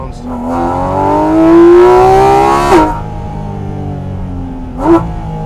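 Porsche GT4 RS Weissach engine revving hard under acceleration while driving, pitch climbing steadily then dropping at a gear change, with a second shift later; loud and close, from inside the cabin.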